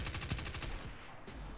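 Rapid submachine gun fire in the sci-fi shooter Destiny 2, a loud, steady burst of evenly spaced shots lasting about a second before a brief trailing pause, with no talk over it.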